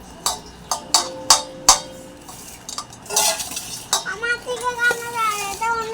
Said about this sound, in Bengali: এইগুলো দিয়ে মানে বেগুনটাকে মাখা করবে, তাই জন্য পেঁয়াজ লঙ্কা কুচিয়েছে।